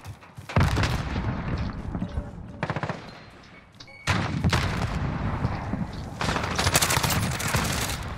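Dense video-game gunfire in a Call of Duty Warzone match, with rapid automatic bursts and heavy booming shots packed together, loud and close. The firing briefly pauses in the middle before it resumes, and a voice talks underneath.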